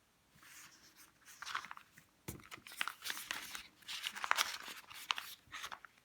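A pencil scratches across paper as a word is written on a Turkish literacy worksheet, with uneven bursts of strokes and small pauses, close and soft, with no talking.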